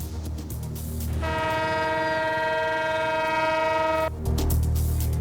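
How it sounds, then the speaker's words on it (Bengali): A passenger train carrying people on its roof sounds a long, steady horn blast for about three seconds over a rumbling, rushing run, with loud clattering noise before and after the blast. "ছাদেও যাত্রী নিয়ে ছুটছে ট্রেন।"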